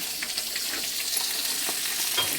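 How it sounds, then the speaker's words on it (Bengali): Fish head frying in oil with a bright, even sizzle and scattered soft pops, close by and continuous throughout. "এই বন্ধুরা মাছের মাথা ভাজা হয়ে গেছে"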